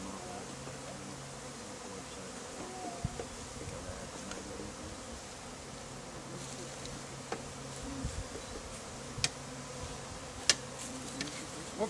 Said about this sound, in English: These are Italian honeybees.